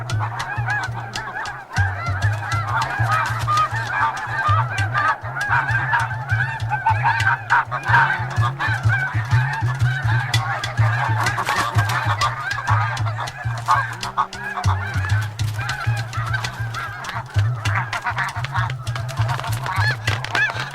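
Geese honk continuously on the Arctic tundra, a dense, loud flock of nesting birds calling over one another for the full stretch, with steady overlapping clamor and no voices.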